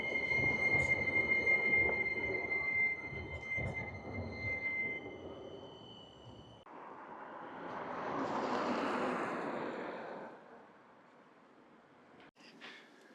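Birmingham trams rumble past at street level, with a steady rolling roar, a high whining tone early on, then a swelling and fading pass, heard fairly close without talk.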